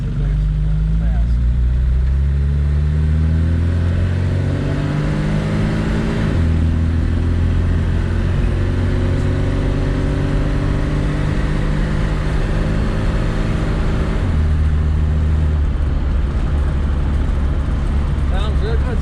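An Opel GT engine fitted with a Weber 32/36 carburetor idles fast and steady close by, a constant throaty rumble with slight pitch shifts, while people talk over it.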